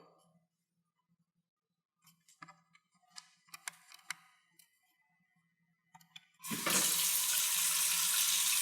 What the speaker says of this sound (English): she's literally just rinsing them